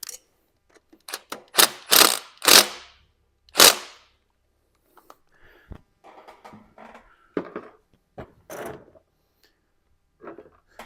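Ratchet tightening a 13 mm bolt during a diesel E-Fuel install on a lawn tractor, with several sharp clicking bursts close by followed by quieter intermittent clicks and pauses.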